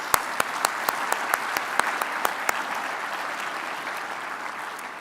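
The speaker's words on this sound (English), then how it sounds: "Please give yourselves a round of applause." A business conference audience in a ballroom gives a round of applause, a sustained even wash of many hands clapping with one nearby clapper's sharp, regular claps standing out early before fading into the crowd.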